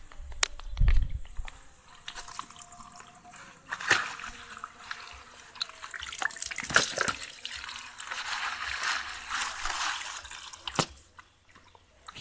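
Water splashes and drips while ingredients for dragon fruit cincau ice are washed by hand, intermittent trickles and clattering splashes rising and falling over several seconds, close and fairly quiet.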